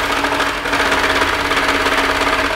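An overlocker stitches a seam joining pieces of knitted blanket fabric, giving a steady, loud mechanical whirring hum with a fast rhythmic chatter that runs unbroken throughout, close by and without talk.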